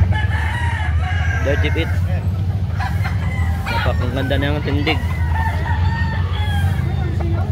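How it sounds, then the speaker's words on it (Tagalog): A gamecock crows over a steady low hum and murmuring crowd noise, with short clucks and calls in between. Someone talks about the bird close by the whole time. "Napakagwapong manok"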